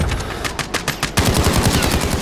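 Rapid bursts of AK47 automatic fire in Call of Duty: Modern Warfare, loud and close, with repeated sharp shots that grow denser and heavier partway through.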